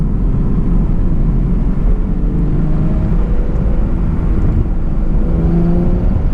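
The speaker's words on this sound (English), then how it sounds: "So that's the exhaust in tour mode." A 2020 Chevrolet Camaro RS V6 1LE drives with its exhaust in tour mode, giving a steady, loud, low engine drone and rumble heard from inside the car, with no talking.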